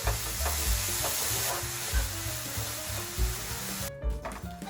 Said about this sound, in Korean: 빠르게 섞어 주세요